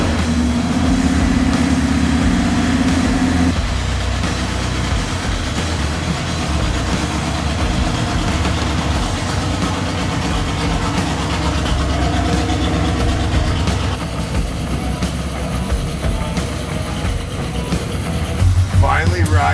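A 1948 International KB5 dump truck engine runs in a steady low rumble from inside the cab, continuous and fairly loud, with a shift in tone partway through.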